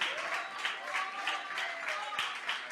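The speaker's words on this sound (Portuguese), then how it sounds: "Você pode aplaudir o nome do Senhor?" A church congregation applauds in praise, a dense steady patter of many hands clapping together with rhythmic surges, moderately loud and sustained throughout, with voices mixed faintly underneath.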